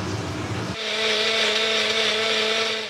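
A kitchen mixer grinder grinding raw onion into a gravy paste for a restaurant-style ravas fish curry, switching on with a steady loud whirring drone that holds for a few seconds.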